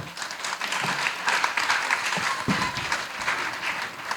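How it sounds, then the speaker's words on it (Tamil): A crowd of students, teachers and parents at a Tamil school graduation ceremony applauds with thick, continuous clapping that stays strong and even from start to finish. "அனைவரையும் பலத்த கைத்தட்டலுடன் வரவேற்கிறோம்"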